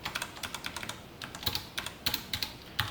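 Fingers typing C code on a computer keyboard, a quick irregular run of crisp key clicks with brief pauses between bursts, close and clear with no voices.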